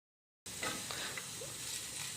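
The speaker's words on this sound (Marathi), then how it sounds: "इथे मी तव्यामध्ये लसूण घेतला आहे, कांदा फ्राय केला आहे आणि" Garlic, onion and chilli sizzle on a griddle pan for pithla, a soft steady hiss starting abruptly after a moment of silence, with occasional light stirring.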